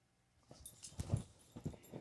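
A dog whimpers and whines in a few soft, broken bursts at close range, while a cat is nearby and no one speaks.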